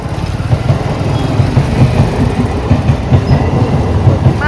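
Interior of an almost empty moving train at night, with a loud continuous rumble and a regular clickety-clack of wheels over rail joints throughout.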